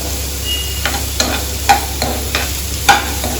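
Beetroot and onion stirred in a frying pan, with a steady low sizzle broken by a few soft scraping stirs spaced about a second apart, close and moderately loud with no voices.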